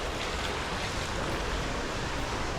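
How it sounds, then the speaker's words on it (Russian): Steady broadband rush of a large waterfall in Bahrain, a constant roar without pauses, fairly close. "Здесь у нас большой водопад."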